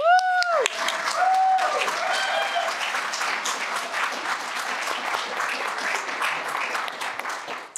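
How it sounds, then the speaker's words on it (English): Audience applause greets a graduate student, Michelle, before her thermal-fluid science talk on plant chemistry and wildfire. Dense, steady clapping fills the room for several seconds, with brief cheering whoops at the start. "Let's have a big round of applause for Michelle."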